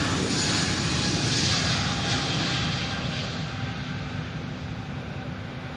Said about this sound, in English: And then TAP Express off, and it's got the Embraer E190.